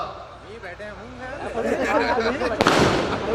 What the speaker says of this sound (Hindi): देखिए, आतिशबाजी की व्यवस्था भी की गई है स्वागत में